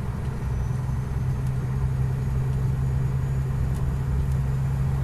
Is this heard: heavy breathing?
no